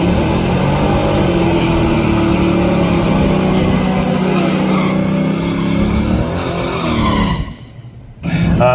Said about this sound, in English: That's a 1974 Plymouth Duster, 360 cubic inches of Mopar, 400 horsepower